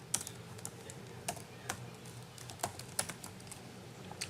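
Fingers tap a computer keyboard in a quiet room, entering a password in an irregular run of soft, close keystrokes with a few sharper clacks, with no talking.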